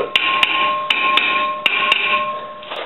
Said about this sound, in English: we're going with the traditional hit it with a hammer method. Loosen up the rust.